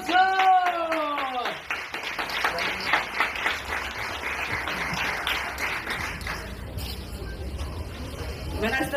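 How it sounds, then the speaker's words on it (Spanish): A crowd claps and cheers at a child's birthday party, the applause rising right after a voice and filling most of the stretch. It is dense and steady and fades toward the end as chatter takes over. "¡Aplauso!"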